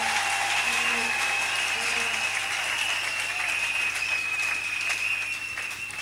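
A church congregation applauding and cheering for Jesus Christ, a steady dense wash of clapping and crowd noise sustained throughout at fairly close range.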